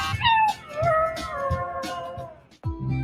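A dog whimpers and whines in drawn-out, high, wavering cries inside a Subaru Forester, ending in a short break before a lower sound takes over.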